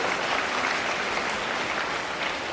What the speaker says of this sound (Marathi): आपण सर्वांनी एकदा टाळ्या वाजवाव्यात ही आपल्याला विनंती करतो